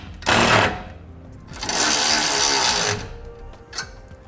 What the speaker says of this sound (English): I'm going to tighten these nuts up until the U-bolt sits nice and snug against the leaf spring